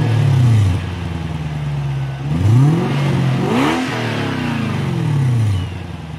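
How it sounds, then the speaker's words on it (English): A Lexus GS430 with its 3UZ-FE V8 and mufflers cut off revs up several times, rising and falling from a deep idle, loud and close with no talking. "This video is basically of the mufflers cut off, so you can go ahead and see what it sounds like."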